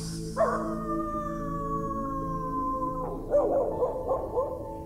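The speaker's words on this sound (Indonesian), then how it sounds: "ada suara lolongan anjing dan suaranya tidak jauh dari kami" A dog howls in a long, sustained wavering tone that slides slowly downward, fairly close and clear, followed by a few shorter yelping howls near the end.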